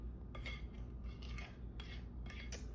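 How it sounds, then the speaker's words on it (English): A scraper works cake batter for a cream cheese pound cake around the sides of a mixing bowl as the bowl turns, giving a soft, continuous scraping and dabbing texture close up with scattered brief scrapes. "Turn your bowl around and just scrape it around."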